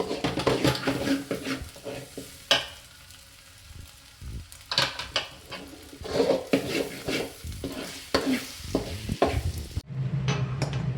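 Egg mixture frying in a pan for egg rice, with a steady sizzle broken by frequent scrapes and clinks of a spatula stirring against the pan, close and fairly loud throughout, with no talking.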